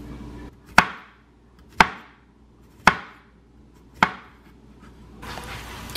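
Knife cutting through a peeled plantain on a board, four sharp distinct chops spaced about a second apart, close and crisp, with quiet pauses between and no talking.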